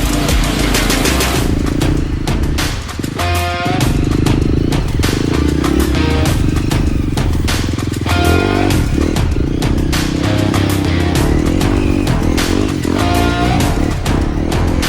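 A dirt bike climbs a steep hard enduro hill on a small mountain through bamboo forest, its engine loud and continuous, revving and straining with rapid throttle changes and clattering.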